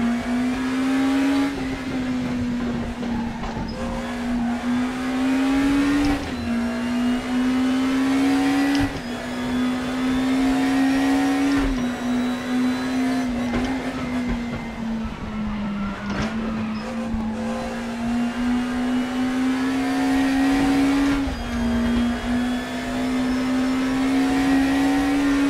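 Car engine in a racing simulator game, a steady loud engine drone rising and falling through repeated gear shifts and throttle changes, with no talk.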